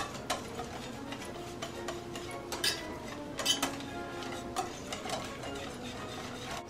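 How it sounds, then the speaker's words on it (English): Quick rhythmic clinking of a whisk beating crepe batter in a bowl, close and fairly quiet, with scattered sharper taps against the rim. "Mix, whisk it all up so it's nice and smooth."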